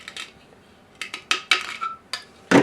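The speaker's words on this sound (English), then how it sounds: "We're just going to go ahead and take off on the inside and cut off any shavings." A small knife scrapes drill shavings from the inside of a Nutribullet blender container in a handful of short, close scraping strokes separated by pauses, with a louder final scrape.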